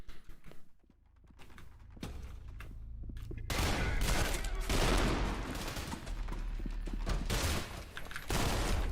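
Gunfire in a first-person shooter game, with dense bursts of shots and fusillade-like volleys rolling almost continuously through the second half after a quieter start.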